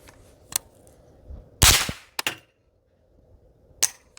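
A suppressed 5.56 rifle fires a single shot through a Radical LS-5 or Huxwrks Ventum 556 suppressor, a loud close burst with metallic action clatter after it, a few smaller clicks around it, and no speech.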